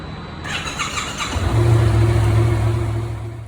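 A Yamaha FZ07 motorcycle engine starts with a short whir, then catches and settles into a steady, loud, close idle, with no talking.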